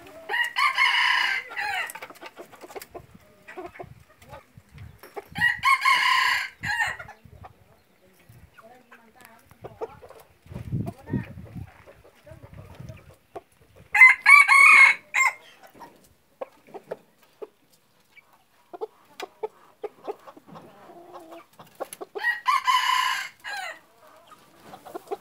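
Fighting-cock decoy roosters crow four separate times at long, spaced intervals, moderately distant over a quiet background with faint clucks, shuffling and occasional talk.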